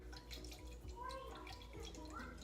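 A little tap water runs into a can while cooking pork chops in a crockpot, a faint, brief trickle and splash heard up close.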